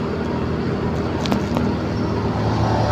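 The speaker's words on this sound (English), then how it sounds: "There's so many cars." Many cars pass in steady, dense road traffic, a continuous close rumble of engines and tyres with no pauses.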